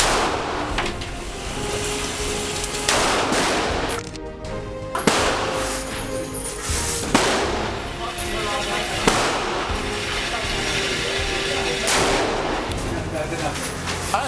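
Gunfire from firearms featured in the Tom Clancy video game franchise: loud, sharp shots come singly and in short bursts every second or two, with a constant layer of noise beneath and a voice faintly under the shooting.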